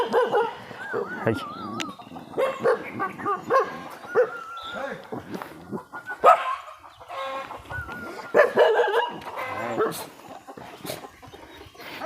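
Dogs bark repeatedly in a forested tribal village, the irregular barks mingling with clucking fowl and nearby voices.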